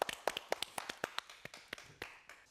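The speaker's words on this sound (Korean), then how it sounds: "자, 박수 한번 주세요." A small group in a broadcast studio claps, the individual claps sharp, close and unevenly spaced rather than blending into a roar.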